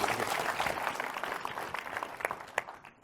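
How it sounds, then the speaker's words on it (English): Audience applause for panelists at an analytics summit, a moderately loud roomful of clapping that thins out toward the end with a few last isolated claps. "How about a round of applause for our panelists?"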